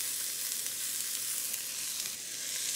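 Celery, carrot and onion hit an oiled pan for an oxtail stew, giving a steady, close, bright sizzle that holds evenly throughout with no talking.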